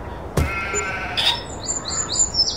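Sheep bleat in a pen in the Farming Simulator 22 video game: one sharp, close bleat, then a longer wavering call, with light bird chirps twittering in the background.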